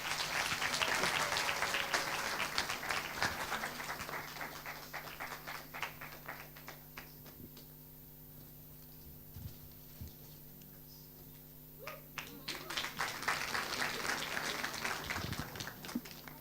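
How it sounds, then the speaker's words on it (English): Audience applause at a World Intellectual Property Day celebration, loud sustained clapping that thins to scattered claps in the middle before swelling again, with a few voices underneath. "A round of applause."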